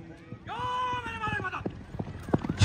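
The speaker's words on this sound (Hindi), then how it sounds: "इस घोड़े का नाम है भाई हलचल, ये अभी बहुत ज़्यादा थका हुआ है" Tired racing horse at a neza bazi tent-pegging event, hooves clip-clopping in short irregular beats beneath a long drawn-out whinny-like call and crowd voices talking nearby.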